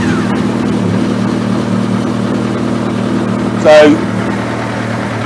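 Suzuki GSX1300R Hayabusa motorcycle engine, warm, idling with a steady low rumble after starting, with a short sharp burst near the end.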